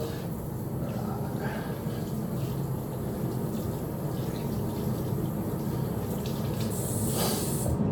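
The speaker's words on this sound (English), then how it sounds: "I'm going to wash my hand." Running water hisses steadily from a tap while hands are washed with a cleansing strip, a close, continuous spray-like wash that brightens briefly near the end.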